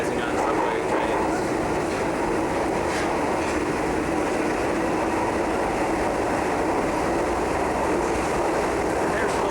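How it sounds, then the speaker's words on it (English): A Marunouchi line subway train in Tokyo roars steadily along the track, a loud continuous rumble with faint clicking and wheel hiss throughout, heard from inside the car. "here we are sailing along in the Marunouchi subway"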